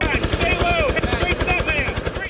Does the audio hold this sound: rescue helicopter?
yes